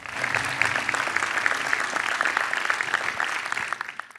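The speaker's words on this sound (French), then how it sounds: "Merci, on peut les applaudir." A workshop audience at a French young farmers' event claps after hearing testimonies, a steady mass of applause from a roomful of people that holds evenly and fades slightly at the end.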